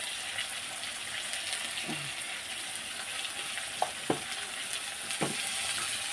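Onions frying with a pinch of salt make a steady, moderate hiss of oil, broken by a few soft clicks and scrapes of stirring.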